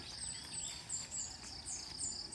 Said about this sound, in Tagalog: Sari-saring ibon.